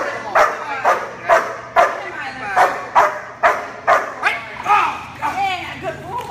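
An eight-month-old protection dog barks during bite work training, about a dozen loud, sharp barks in a steady rhythm close to the microphone, ending with a few higher yips.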